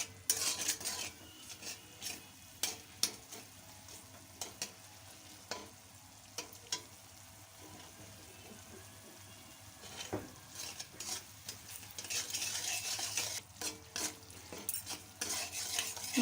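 Spice masala with sugar sautéing in a pan, a soft continuous sizzle under repeated scraping and tapping of a spatula, with stirring growing busier toward the end.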